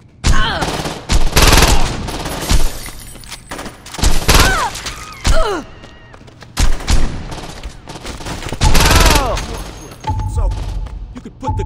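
Gunfire in the video game Saints Row 2 rattles out in loud repeated bursts, heavy volleys of shots with short gaps between them, while voices talk over parts of the fighting.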